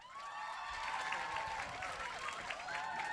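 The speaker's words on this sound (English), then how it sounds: "Please give a huge round of applause and warm welcome to Hugh Grant." A large studio audience applauds and cheers as an actor is welcomed for an interview, dense sustained clapping with crowd whoops, fairly close and loud, carrying steadily throughout.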